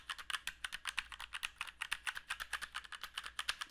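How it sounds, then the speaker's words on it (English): Rapid typing on a Drevo Calibur wireless mechanical keyboard with brown switches, a dense run of close, quiet clacky keystrokes in an uneven rhythm, with no voice over it. "I'll let you guys hear what this sounds like with it typing."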